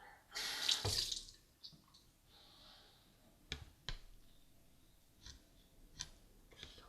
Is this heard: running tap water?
yes